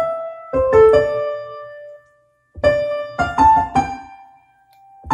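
Right-hand melody of a song played alone on what appears to be a piano or keyboard, a few sustained tonal notes in short phrases separated by a pause, clear and close with no talking.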